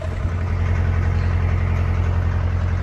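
A narrowboat engine runs steadily at idle with a low, pulsing throb, loud and close, and a slightly uneven beat suggesting misfiring, with no other sounds.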